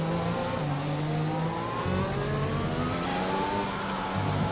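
A race car in a racing game at the Spanish Grand Prix circuit, its engine revving hard and loud, pitch falling and rising through downshifts into a heavy braking zone, with no voices.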